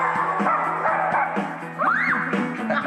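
Dogs at an open, cage-free dog shelter barking and yipping in quick overlapping bursts, close and fairly loud, with a whimper-like rising yelp midway.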